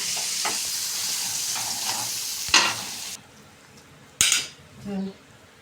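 Soaked puffed rice and softened tomatoes get stirred in a pan with the gas off, a spoon scraping and knocking against the metal over a fading sizzle, with short bursts of stirring and pauses between them.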